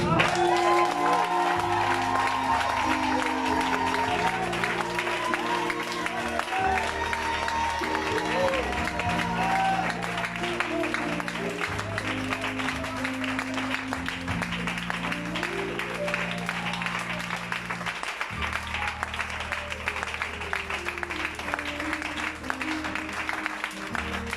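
A church congregation at a worship service applauds and cheers over loud music with a sustained bass and organ-like tones, the clapping blending into the continuous band sound.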